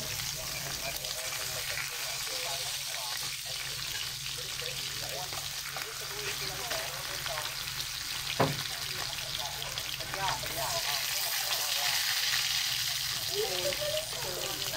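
Spam slices fry in a pan with a soft, constant sizzle and hiss, fairly quiet, while a person talks intermittently over the crackle.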